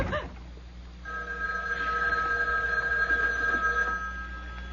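A house telephone bell rings steadily in an old radio mystery drama, a bright continuous ring that holds for several seconds, fairly loud and alone with no talk over it.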